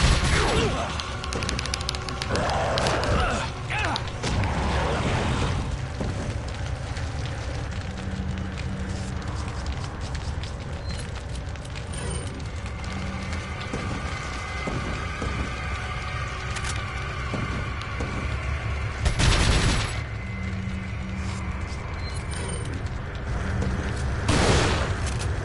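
Resident Evil 4 gameplay gunfire: dense, busy action sound runs throughout, with booming bursts and mechanical clatter, several louder hits near the end, no talk.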